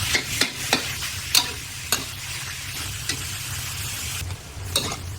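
Minced pork sizzles as it is stir-fried in a pan for a simple Thai chilli pork dish. A constant hiss runs throughout, with intermittent clicks and scrapes of the spatula, strongest early on.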